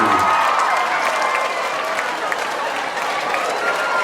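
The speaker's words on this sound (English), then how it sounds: "all this applause is for them" Crowd at a bike-a-thon bursting into loud, sustained applause mixed with some cheering, clapping steady and full from start to finish.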